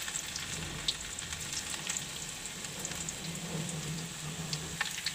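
Garlic and ginger sizzle in hot oil in a pan, with a steady close crackling fry broken by occasional sharper pops and spits.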